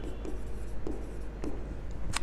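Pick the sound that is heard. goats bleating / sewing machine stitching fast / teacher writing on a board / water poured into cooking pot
teacher writing on a board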